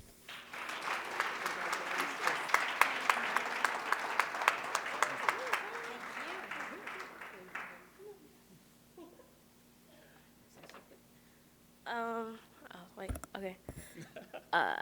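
An audience applauds steadily for about eight seconds at a women's history celebration honoring a student, the clapping fading out before a single speaker begins talking.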